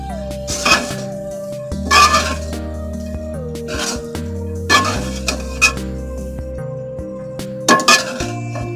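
A spatula clinks and scrapes against a pan while vinegar and chili sauce are stirred into chicken fried rice: five or six sharp metallic bursts spread over several seconds above a low steady hum.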